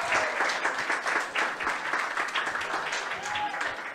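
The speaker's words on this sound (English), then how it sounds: "Give this young man a big round of applause." Audience applause at a Filipino Hollywood actors panel, a steady dense wash of many hands clapping that holds for the whole stretch, with faint voices mixed underneath.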